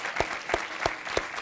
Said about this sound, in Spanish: El Puma Carranza, un aplauso para él